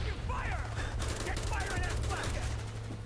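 Rapid automatic gunfire in the video game Call of Duty: Black Ops, played on the campaign at Veteran difficulty, crackling in dense bursts and mixed with game voices and chatter.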